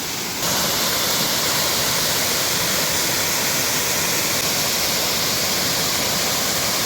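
A waterfall cascade at Sillans in Provence roars as a steady, loud, broadband rush of falling water that holds constant throughout, with no voices over it.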